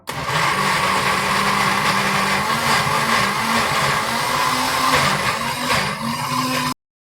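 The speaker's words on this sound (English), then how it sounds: "we're going to have a noisy blender" A noisy blender runs loud and close for about seven seconds, its motor whining steadily with small pitch shifts, then cuts off abruptly.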